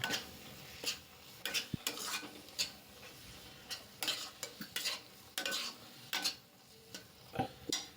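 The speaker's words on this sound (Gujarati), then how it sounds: "ને આને બરાબર હું મિક્સ કરી લઈશ ગેસની ફેમ આપણે ધીરી કરી લઈશું ને બરાબર મિક્સ કરી લઈશું" Spoon or spatula scrapes and stirs thick millet flour halwa in a pan over a low gas flame, with irregular strokes and clinks that are close and clear and no voices.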